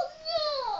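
A young child cries in the background, a short wavering wail lasting under a second with no talk over it.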